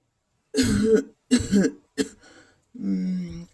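A cartoon character, an ailing parent in a Bengali fairy-tale animation, gives several loud, close, harsh coughs in quick bursts, then a longer strained throaty one, with no other sound between.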